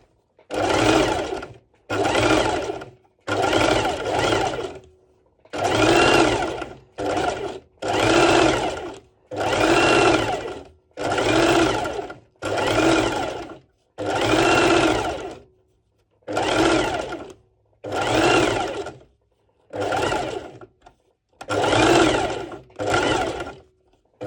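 Sewing machine stitching bikini top ruffles in repeated loud bursts of rapid mechanical whirring, about fifteen runs separated by short pauses, close and alone.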